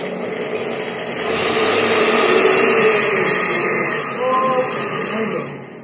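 A kitchen blender whirs steadily while blending corn batter with margarine and milk, rising and swelling in loudness mid-run, a close, continuous motor drone.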